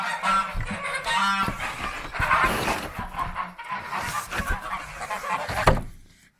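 Several geese honk loudly and repeatedly up close in snow, their raucous calls overlapping in a busy, continuous chorus.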